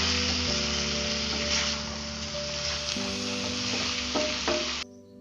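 Chicken pieces fry in a pan with ginger-garlic paste, giving a loud, steady, close sizzle with a faint tonal hum beneath that cuts off abruptly near the end.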